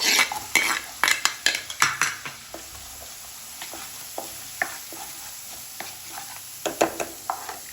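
Carrots stirred into garlic frying in a pan for a Gujarati dhokli dish, a spoon scraping and clinking against the pan in quick bursts over a soft, steady sizzle, close up.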